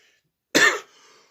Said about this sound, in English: Notice how I start coughing